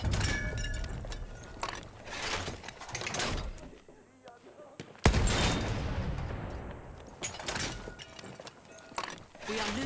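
Sniper rifle shots ring out in a hardcore Battlefield match, several sharp cracks spread through a noisy stretch, one loud close bang near the middle, with players talking throughout.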